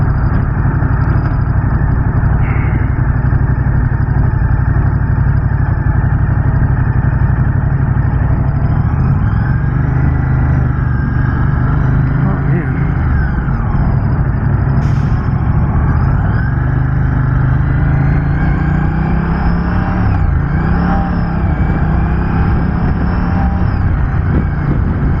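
A Moto Guzzi Stelvio motorcycle engine runs steadily while riding, a loud continuous drone with slowly shifting pitch and wind rush throughout, and no voices.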